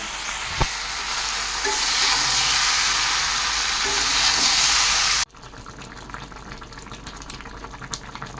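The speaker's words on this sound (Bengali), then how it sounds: "আর আলুও ভেজে রেখেছি, একবারে আলুটাও দিয়ে দেবো, ভালো করে কষিয়ে নেব" Fried soya chunks and potatoes sautéing in a pan give a loud, steady close sizzle for several seconds, then a sudden drop to a quieter simmer with light stirring scrapes.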